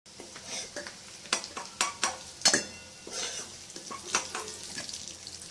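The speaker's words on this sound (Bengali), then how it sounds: "আলুগুলো ভাজা হয়ে গেছে লাল করে ভেজে নিয়েছি" Potatoes frying in oil in a pan for a potato, cauliflower and prawn curry, with a steady close sizzle broken by several sharp scrapes and clinks of a spoon stirring against the pan.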